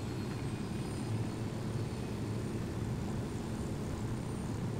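A helicopter in the video game Ghost Recon Wildlands gives a steady, close rotor-and-engine drone that holds constant and fills the whole stretch with no break and no voices.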